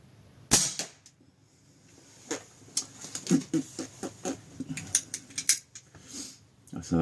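A Snowpeak PP750 5.5 mm PCP air rifle fires, first a sharp, close crack, then a run of lighter snaps and clicks spaced irregularly over a quiet background.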